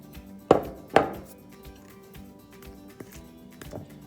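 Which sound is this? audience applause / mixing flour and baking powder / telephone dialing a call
mixing flour and baking powder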